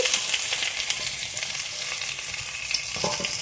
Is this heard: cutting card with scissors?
no